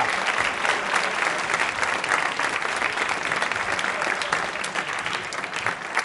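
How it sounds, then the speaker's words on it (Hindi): Sustained audience applause for two doctors at a school quiz show for World Diabetes Day, a dense, even wash of many hands clapping that holds steady throughout without pause. "तालियां बजाइए दोनों डॉक्टर साहब और मैम के लिए"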